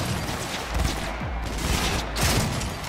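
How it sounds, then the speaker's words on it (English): Gunfire in the video game Cyberpunk 2077, fired through walls: a rapid, continuous fusillade of loud, clattering shots with several sharper bursts over a few seconds. "Oh, I can shoot through walls."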